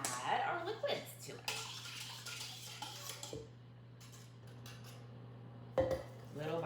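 Liquids poured into flour and stirred with a utensil in a bowl for a gluten-free, sugar-free carrot cake batter, giving soft scraping and clinking against the bowl over a steady low hum, with a louder knock near the end.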